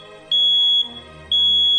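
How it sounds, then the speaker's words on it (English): Smoke alarm sounds two loud, piercing high-pitched beeps, each about half a second long, separated by a short pause over a faint background. "Your smoke alarm is made to break the harmony when you hear."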